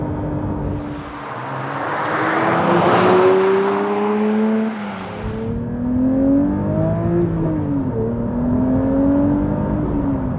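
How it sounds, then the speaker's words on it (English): A Porsche 911 (992) GT3 with a naturally aspirated 4-litre flat-six climbs through a loud, rising rev with a rough intake roar, then drops and settles into repeated rising and falling engine pulls, close and unaccompanied by talk. "A 4-litre flat 6 naturally aspirated engine producing 510 horsepower."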